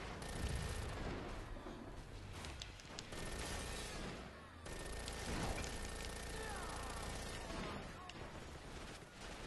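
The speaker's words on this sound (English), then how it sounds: "Oh, I just got a minigun." A minigun firing in the video game Crackdown 2, a dense, continuous roar of rapid gunfire that fills the whole stretch loudly and stays near and sustained with no clear breaks.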